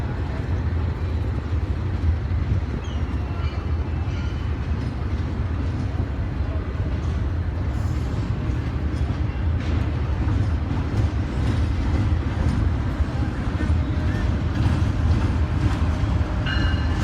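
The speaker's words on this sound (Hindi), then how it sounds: "और ये रावलपिंडी से आई है कराची कैंट स्टेशन पे तेज़गाम एक्सप्रेस।" Tezgam Express from Rawalpindi rolling into Karachi Cantt station behind a GEU 40 locomotive, a steady loud rumble of wheels and carriages throughout, with faint voices.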